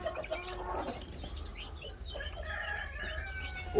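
Sussex chickens scuffle at close range on a farm, with bursts of agitated clucking and squawks over a low background rumble.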